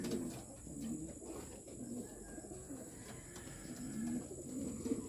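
A blue bar racing pigeon hen coos softly in repeated low calls, with faint chirps from other birds in a loft, fairly quiet and without talk.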